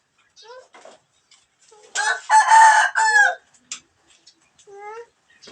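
A rooster on a house roof crows loudly nearby, a long strained call, with scattered clucks and short squawks from chickens before and after.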